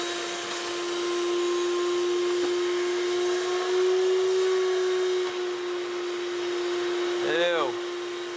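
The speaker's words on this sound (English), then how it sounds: "let's vacuum all this nasty stuff up." A vacuum cleaner runs steadily at close range cleaning debris from a Subaru engine, with a loud, constant motor whine and hum, briefly rising in pitch near the end.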